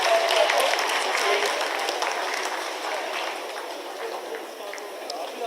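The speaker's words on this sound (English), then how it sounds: "Lot of applause" Sustained applause from a large crowd at the live Chandrayaan-3 lunar landing event, steady and dense throughout, with a faint voice carrying over it.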